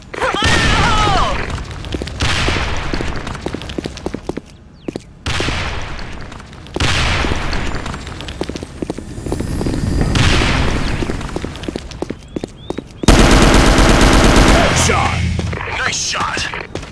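Grenade blasts and rapid gunfire in the online shooter Sudden Attack, loud dense volleys of shots and booms stacked close together throughout, with game voice callouts mixed in.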